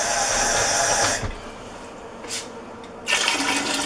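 Water poured into a pot of soup sauce in a home kitchen, a steady rushing pour that cuts off briefly, a short splash, then resumes strongly near the end.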